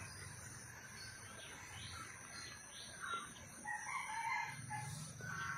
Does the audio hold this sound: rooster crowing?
yes